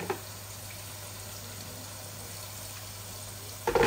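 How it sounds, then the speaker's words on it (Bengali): A little water pours into a cooking pot of fish curry with vegetables as a soft, steady stream of running water, ending in a brief louder clatter. "অল্প একটু পানি দিচ্ছি যাতে মুড়ে না লাগে যায়,"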